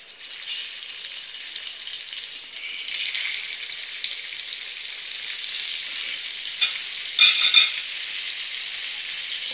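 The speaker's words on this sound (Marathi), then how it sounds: "आता हे तेल गरम झालेलं आहे, त्यामध्ये आपण अशी कारली परतवून घेऊया।" Bitter gourd (karela) frying in hot oil and being stirred, a steady close sizzle running throughout with a brief burst of louder stirring and clatter near the end, no voices.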